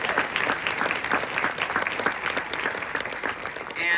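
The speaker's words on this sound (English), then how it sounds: "Give them a round of applause." An audience at a film premiere claps for the crew, a sustained round of applause from a large crowd, steady and fairly close, with a faint voice near the end.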